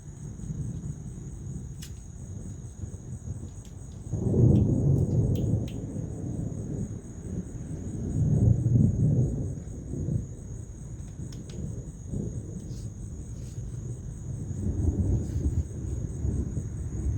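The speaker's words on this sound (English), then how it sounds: "That's a long thunder." Long, low thunder rumbles roll in during an active summer thunderstorm, swelling and fading in several waves beneath a constant high-pitched chorus of crickets.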